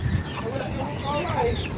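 Chickens cluck and murmur nearby in a short burst on a small Philippine farm, with a steady background hum.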